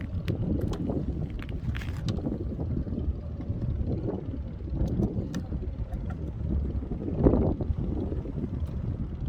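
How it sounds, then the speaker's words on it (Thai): A tugboat accompanies a large fishing boat at the mouth of the Pattani River on the Gulf of Thailand, a steady low engine rumble churning under continuous wind buffeting the microphone, no talk. "เรือลากจูงมาด้วยนะครับ"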